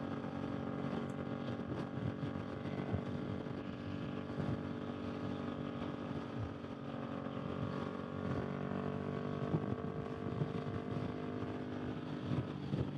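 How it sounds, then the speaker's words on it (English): A 2018 Kawasaki Vulcan S 650 motorcycle with a loud aftermarket exhaust drones steadily and continuously throughout, its engine note sustained and throaty with no pauses or talking. "I make people mad with this exhaust because it's so loud"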